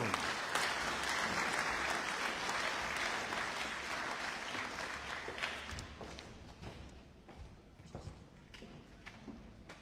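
Warm, full audience applause as a guest is called up at a community welcome gathering, holding steady and then gradually tapering into scattered individual claps.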